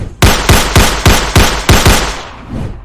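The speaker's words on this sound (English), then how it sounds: "Stop shooting. You're gonna kill us all." Guns firing aboard a ship in a DC Comics Wonder Woman story, about seven loud, close shots in a quick, evenly spaced volley, then a fading echo.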